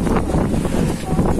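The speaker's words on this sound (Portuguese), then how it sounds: "a ventania hoje tá forte" Strong wind gusts buffet the microphone outdoors at a street fair in Belmonte, Pernambuco, giving a loud, continuous rumbling roar that fills the whole clip.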